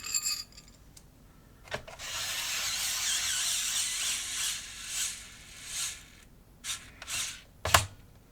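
PlayStation console screws being removed with a small driver, close and quiet, one sustained whirring rasp followed by several short scraping bursts and sharp clicks, with no talking.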